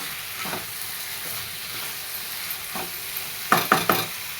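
Eggplant and potato curry, three eggplants and two potatoes, fries in a pan with a continuous close sizzle. A spoon scrapes it now and then, with a quick cluster of stirring strokes near the end.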